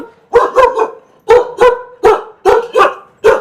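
Kombai country dogs bark at a kennel in Rajapalayam, loud and close, in a run of about nine sharp barks falling in pairs and short bursts, with no talk over them.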